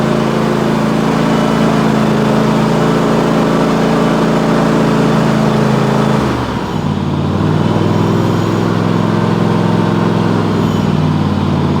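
A John Deere GX255 lawn tractor engine, running on old fuel, idles loudly and steadily nearby, then its pitch drops and settles into a lower, even idle after being throttled down.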